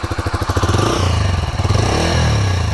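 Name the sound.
Bajaj Freedom 125 CNG motorcycle engine starting and running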